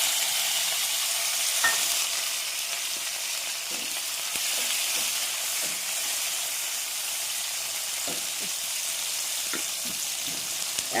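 Tomatoes and green chillies frying in mustard oil for a spicy pabda fish curry, giving a steady, close hiss and sizzle with occasional stirring clicks and no talk.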